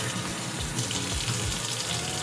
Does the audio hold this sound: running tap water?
yes